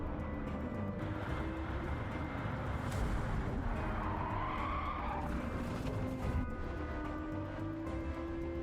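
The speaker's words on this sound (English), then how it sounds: "Applying the brakes too late, leading to a rear-end collision." Tires skid and squeal as a car brakes late and rear-ends another on track in Gran Turismo 7, the screech rising over a constant engine roar with a brief impact mid-clip.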